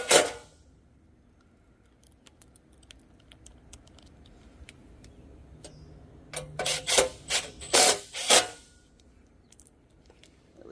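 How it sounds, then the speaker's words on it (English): Screws are driven into a trash can cabinet unit, heard as a close, sharp knock, then faint ticks and rasps that build into a cluster of louder scraping clicks before trailing off. "Take these 4 screws, screw those in there into these 4 holes."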